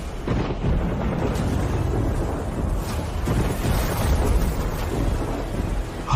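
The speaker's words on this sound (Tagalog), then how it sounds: "Ang bagyo ni Poseidon." Rumbling thunder from a storm summoned by the sea god Poseidon, a dense, continuous low roar with rain-like hiss and wind buffeting, loud and steady throughout with no voices.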